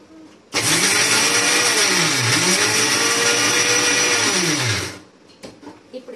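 A kitchen mixer grinder whirs through unpeeled garlic with pepper and cumin, starting abruptly into a loud, sustained motor whine for about four seconds with a wavering pitch, then winding down, followed by faint clatter.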